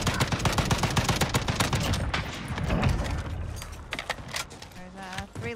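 Rapid bursts of Baby FAL gunfire in a Call of Duty match, loud and close, with dense repeated shots and sharp transients throughout, under faint game noise.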